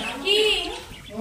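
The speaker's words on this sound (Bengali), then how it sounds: "কি সুন্দর বদ্রি পাখি।" A budgerigar gives a short bright chirp among other bird calls, while a person talks nearby over the brief moment.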